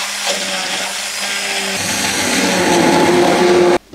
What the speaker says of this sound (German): Und dann wird das Ganze püriert.